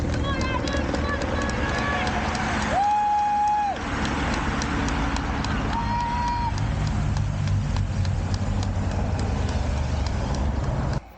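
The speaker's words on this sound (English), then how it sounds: "This is the pre-caravan caravan that's coming round, so people are coming round." Tour de France pre-caravan vehicles rolling past a roadside crowd, engines and tyres rumbling by with a couple of horn toots, cheering and chatter mixed in, people talking close by throughout.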